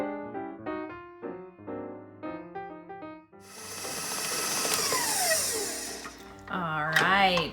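An electric mixer whirs steadily through cupcake batter for white chocolate chip blueberry cupcakes, a continuous motor drone that starts midway through soft melodic music, which carries on around it.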